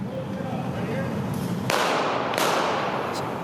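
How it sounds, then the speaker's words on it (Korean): Two sharp gunshots about a second apart ring out over a steady wash of street noise in downtown Portland during protests, loud and close. "시내 한복판에서 두 발의 총성이 울렸습니다"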